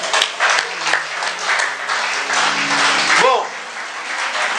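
A church congregation applauding and cheering in praise of the Lord, with steady loud clapping that fills the room for several seconds and voices shouting over it.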